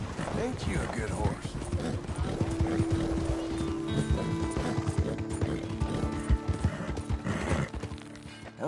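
Horse hooves clip-clop steadily in a PS4 video game, a continuous rhythmic trot with occasional whinnies, played under ongoing game sound and a person talking.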